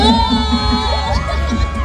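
Loud crowd shouting and cheering at Team Payaman Fair 2024, a dense roar of whoops and children's yells sustained throughout at close range.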